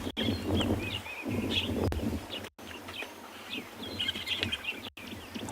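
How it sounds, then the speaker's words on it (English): Many birds calling at a waterside dam during a sunset safari drive, overlapping chirps and calls spread through the scene at moderate distance, with brief dropouts in the sound. "Seems just a lot of bird activity"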